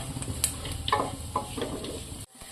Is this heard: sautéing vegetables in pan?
yes